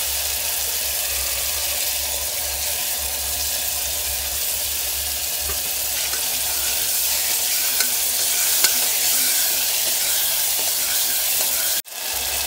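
Onions and tomatoes frying in a pan for black-eyed pea rice, with a steady close sizzle and occasional scraping stir strokes, ending in a brief clatter and no talk.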